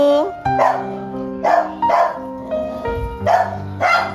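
Several neighborhood dogs bark at a house, loud close barks coming in repeated bursts roughly every half second to second, with tonal yips and whines between them.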